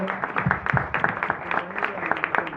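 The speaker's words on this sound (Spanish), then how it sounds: "pido un fuerte aplauso para dar inicio a esta actividad" A small audience at an informational talk in La Plata claps, a sparse run of distinct, uneven hand claps at moderate distance, with a voice briefly audible among them.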